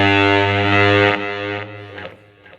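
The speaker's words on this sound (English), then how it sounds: "So JHS added a gate to that as well, so you'll hear it, just the signal will just kill." A distorted electric guitar chord through a JHS Kilt fuzz pedal rings out loud and sustained, then a built-in gate abruptly chops the decaying signal into silence within about two seconds.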